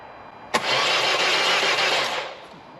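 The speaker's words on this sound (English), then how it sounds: "Sounds like there's no compression in that engine." A Ford Mondeo diesel engine cranks with a sharp click, catches, and settles into a fast, steady idle close by, then slows toward the end; the engine seems to lack compression.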